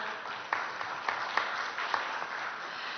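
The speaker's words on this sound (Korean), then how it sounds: "여러분 다시 한번 뜨거운 격려의 박수 보내주시기 바랍니다" Audience applause at a Korean startup pitch event, a steady wash of clapping from a crowd that holds at an even level for a few seconds, with a few louder individual claps standing out.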